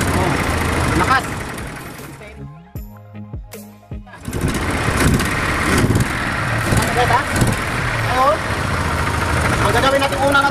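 A Chevrolet pickup engine cranks and starts, then runs with a rough, uneven misfire, loud and close, with a gap of near silence around the start and voices talking over the running engine.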